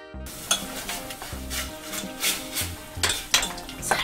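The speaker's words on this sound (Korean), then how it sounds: "고추장 약한 불에서 오래오래 볶아주세요." Gochujang and ground meat stir-fried over low heat in a pan, with a soft sizzle under rhythmic scraping and clinking of a utensil against the pan, close and without talk.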